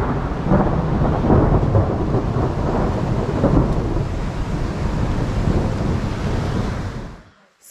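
Heavy rain pours during a thunderstorm on a mountain hiking trail near a river, a loud, dense wash of rainfall with rolling rumbles throughout, close and constant before cutting off abruptly near the end.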